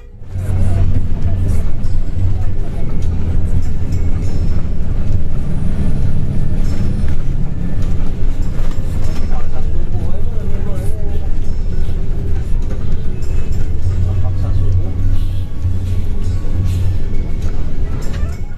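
A Sinar Jaya intercity bus drives along the road on the Sukabumi to Cikarang route, its engine a loud, steady low drone with occasional swells, heard from inside the cabin.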